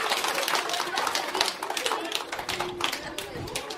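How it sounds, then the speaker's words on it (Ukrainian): A group of children clap their hands together in quick, uneven bursts, the dense patter of many small palms filling the space at moderate loudness, with voices mixed in. "І дуже гарно плескати один на одному"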